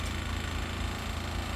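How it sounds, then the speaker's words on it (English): A generator runs steadily on a fishing bank, giving a constant, even mechanical hum and rumble with no pauses or talk over it. "That noise you can hear is Robbie's generator."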